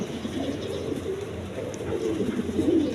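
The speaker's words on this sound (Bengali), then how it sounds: "এখানে একটা শৌকিংয়ের নর কবুতর আছে রেড কালার" A red male Shoukin pigeon at a market coos softly and continuously in low rolling phrases, close by, over steady background noise, with no talk.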